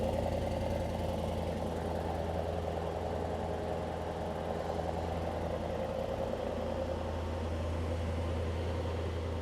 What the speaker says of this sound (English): let's just admire the exhaust sound, guys.